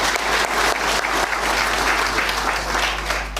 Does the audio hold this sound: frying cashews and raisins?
no